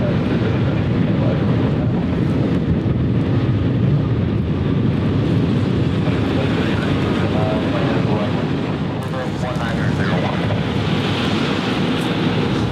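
Wind gusts roar steadily across the microphone at Cleveland Hopkins airport on a cold, cloudy day, a broad continuous rush with a faint aircraft rumble blended underneath.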